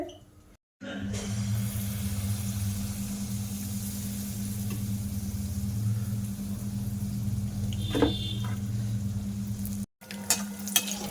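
Pitha made with palm fries in hot oil in a wok, giving a steady, even sizzle with a low hum beneath it. Brief clatters mark the start and end.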